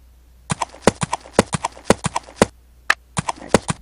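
Horse units in a Forge of Empires battle, heard as a quick run of sharp clip-clop hoofbeats in a steady, galloping rhythm. The hooves are loud and close, with no talk over them.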